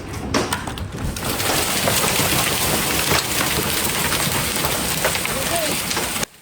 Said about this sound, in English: There was a hailstorm the other day.